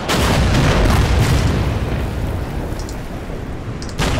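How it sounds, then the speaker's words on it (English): Video game Order of Battle: Morning Sun, Battle of Shanghai, loud dense rumbling explosions and gunfire, a continuous heavy barrage with bursts layered over one another and a fresh blast near the end. "All these gunshots can be quite devastating"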